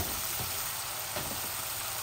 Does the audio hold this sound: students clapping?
no